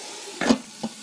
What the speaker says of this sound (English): while it's hot, I'm going to add a bit of oil.